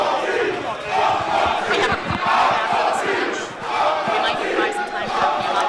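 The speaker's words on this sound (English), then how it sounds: "And this crowd coming alive for Uncle T" A wrestling crowd roars and chants for Solomon Tupu during an AAA Latin American Championship match, loud rolling cheers swelling and dipping in waves throughout.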